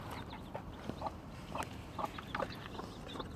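A broody hen with newly hatched chicks gives soft, close clucks and low murmurs in short scattered bursts against quiet outdoor background noise.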